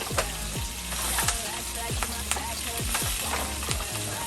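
Raw chicken pieces being mixed in a bowl, a continuous wet squishing and sloshing with repeated soft knocks of handling at a close, moderate level.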